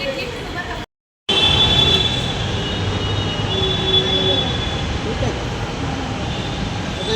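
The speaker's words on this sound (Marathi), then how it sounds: "बघा इथं आमचे मेट्रो आली होती" A Pune metro train rolls into the station with a loud, steady rumble and a thin high whine, while voices murmur around.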